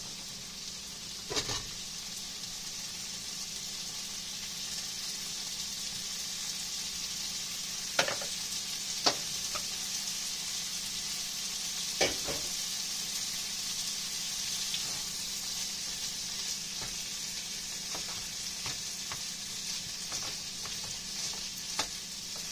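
Diced potatoes and ham frying in a pan for a breakfast casserole give a constant, even sizzle, with an occasional sharp click of a utensil against the pan and no talking.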